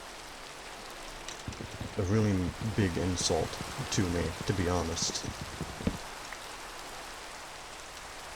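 Steady Minecraft rain hiss falls evenly from start to finish, with a voice talking over the middle stretch.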